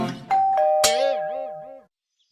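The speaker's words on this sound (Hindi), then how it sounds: "दरवाजे की घंटी।" A doorbell rings with a bright ding-dong chime, ringing out clearly and fading away into silence.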